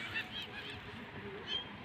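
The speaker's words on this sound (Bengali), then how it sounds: "সুন্দর পাখির ডাক।" Birds calling outdoors at a scenic spot with snow-capped hills, several short faint chirps and honk-like cries scattered over a soft breezy background.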